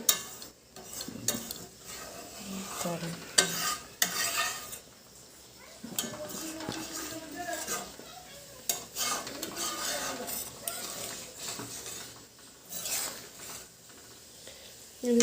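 A spoon stirs and scrapes through a sizzling curry of cauliflower, potato and egg fritters in a pan, with repeated clinks and scrapes over a low frying hiss, some faint voice in the background.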